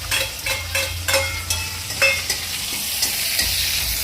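Onion fries in a pan and is stirred with a utensil: a continuous close sizzle broken by repeated rhythmic scraping strokes every half second or so, with no speech.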